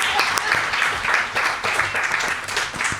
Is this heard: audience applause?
yes